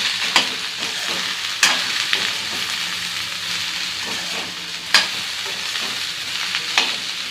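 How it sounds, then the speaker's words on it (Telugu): Okra frying in a pan with chili powder and curry leaves gets stirred with a spoon, making several sharp scraping clatters over a continuous close sizzle, with no talking. "సరిపడా కారం, కొంచెం కరివేపాకు అండి. ఇప్పుడు ఒకసారి కలుపుకుందామండి."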